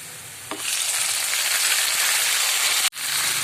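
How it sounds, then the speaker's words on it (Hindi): Onions and tomatoes hit a hot pan and burst into loud, steady frying sizzle that holds evenly for a few seconds before a brief cut. "प्याज को मैं इसमें फ्राई करूँगी।"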